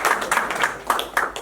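Scattered audience clapping at a clergy liaison's party, a few uneven bursts of hands from a modest crowd rather than sustained applause, fairly close and brief.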